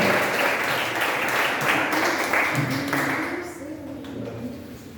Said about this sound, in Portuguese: Se você puder, mais uma vez, aplaudir o nome do Senhor